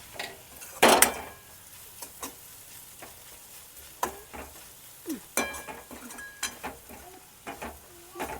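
A spoon scrapes and clicks against a bowl while chillies are mixed into a Gujarati onion salad, in sparse, irregular strokes with one louder clatter near the start.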